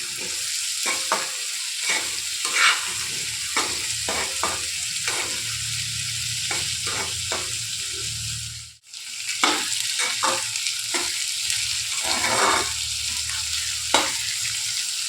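Cut papaya and potatoes sizzle and fry in a pan of lentils as they are stirred, a steady close crackle with scraping strokes and a brief lull partway through.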